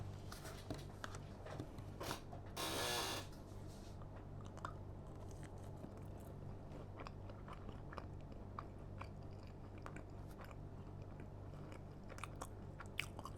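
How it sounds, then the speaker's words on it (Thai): Chicken nuggets being eaten in a restaurant, with faint close crunchy bites and chewing over a low steady room hum, and one brief louder rustle early on. "มาเรามากินนักเก็ตกัน"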